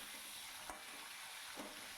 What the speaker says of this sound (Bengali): শিমগুলো ভাজা হোক